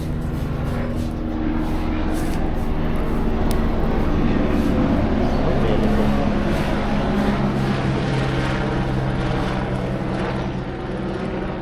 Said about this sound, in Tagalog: Dumaan yung aking helicopter.